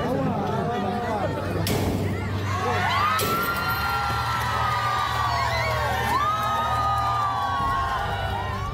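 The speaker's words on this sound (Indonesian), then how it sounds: "Pembukaan paksa gembok pagar SDN Utan Jaya ini langsung disambut teriakan kemenangan oleh orang tua murid." Parents at a primary school gate in Cipayung, Depok raise a sustained crowd roar of cheering and whooping as the gate's padlock is forced open, with children shouting and chatter mixed through the outdoor din.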